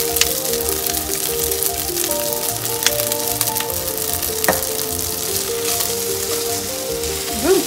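Fried rice sizzles steadily in a hot pan, a dense continuous hiss with small crackles and a faint stir or scrape near the end, with no talking.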